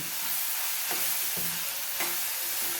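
Onion and tomato sautéing for an okra (bhindi) curry, a steady soft sizzle with a few spoon scrapes against the pan, no voices.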